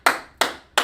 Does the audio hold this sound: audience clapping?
yes